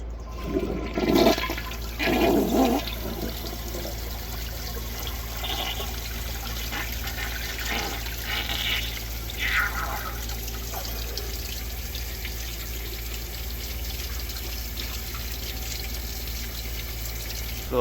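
A 1970 Kilgore Apex toilet flushing with a loud rushing gush of water in the first few seconds, then settling into a long steady trickle and hiss as the tank refills.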